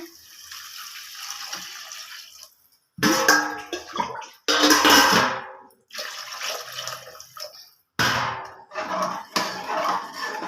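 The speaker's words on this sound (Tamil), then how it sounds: "இப்போ உலை ஊற்ற போகிறேன்" Water poured into a cooking pot for fenugreek rice, in several separate splashing bursts with short silent pauses between the pours.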